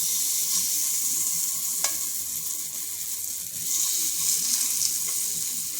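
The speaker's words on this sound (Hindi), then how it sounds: "1 चम्मच की मदद से थोड़ा थोड़ा बैटर डालेंगे इसमें" Vegetable breakfast batter spooned little by little into a lightly oiled pan over medium heat, giving a continuous close hiss and sizzle with one brief metallic tap, no voices.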